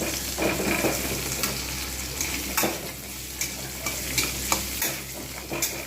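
Steady sizzling of pointed gourd frying in a pan, with scattered clinks and scrapes of a utensil stirring throughout.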